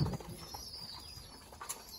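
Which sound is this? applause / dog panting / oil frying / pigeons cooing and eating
pigeons cooing and eating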